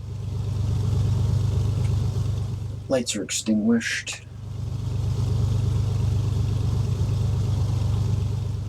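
Steady low piston-engine drone from a Carenado A36 Bonanza in FSX flight simulator, running continuously throughout, briefly dipping while a voice speaks in the middle.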